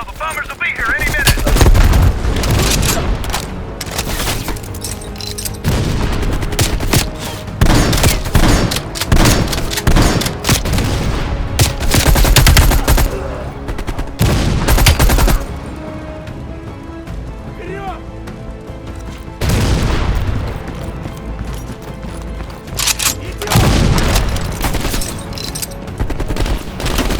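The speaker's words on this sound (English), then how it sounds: "Bombing strike imminent." Bombing strike explosions and heavy gunfire in Call of Duty: Black Ops Cold War crash in repeated loud bursts, dense rattling volleys with booming impacts and short lulls between, with voices underneath.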